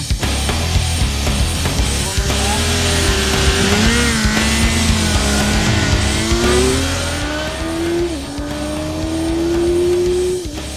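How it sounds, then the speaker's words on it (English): A Suzuki GSX-R1000 liter sport bike screams down a drag strip at full throttle, its engine note climbing and dropping through several gear changes, loud and continuous throughout. "Drag strip really tells us a lot about the acceleration of the bike"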